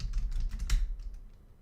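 Keystrokes clatter on a worn-out computer keyboard, with several quick bursts of clicks and one louder clack, close and alone before trailing off.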